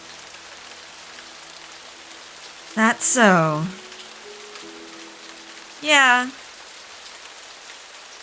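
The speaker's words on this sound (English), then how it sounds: "Let's stand out in the rain." Steady rain ambience from the video game Cupid Parasite hisses evenly throughout, with a few short spoken phrases rising over it.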